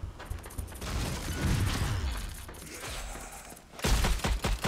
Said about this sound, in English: I threw a grenade.